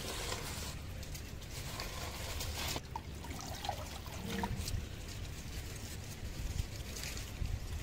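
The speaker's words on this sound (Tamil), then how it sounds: "இப்போ ஃபுல்லாக பாடி தண்ணியில் இறங்கணும்" A whole rooster is dipped and swirled in hot water before plucking, giving continuous sloshing and trickling with soft splashes, close and steady throughout.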